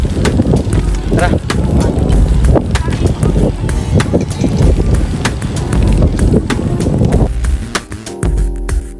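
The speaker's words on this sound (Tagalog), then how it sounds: "Medyo malakas yung hangin ngayon, pero it's all good." Strong wind buffets the microphone in heavy, continuous gusts, with rustling and thumps mixed in and some talk underneath.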